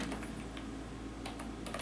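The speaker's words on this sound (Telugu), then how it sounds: "ఫోటోషాప్ అని చెప్పేసి నేను టైప్ చేస్తున్నాను" Typing on a computer keyboard: quiet, irregular key clicks in small bursts over a steady low background hum, with no voices.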